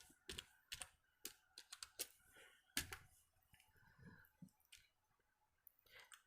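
Fast clicking keystrokes on a computer keyboard while writing in MS Word, crisp irregular taps close up with short pauses between bursts, heard alone in a quiet room.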